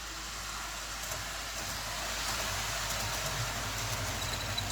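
A Hornby Class 370 APT model train, recently DCC-chipped and having running problems, runs with a faint, steady whirring rumble that holds even and continuous throughout.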